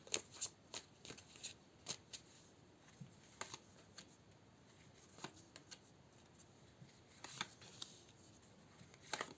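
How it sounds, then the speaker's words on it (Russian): Tarot and Lenormand cards shuffled by hand in a quiet room, giving soft papery riffles and sharp taps in irregular bursts, close to the mic, with no talking. "Я разложу карты, а потом ищу Ленорман."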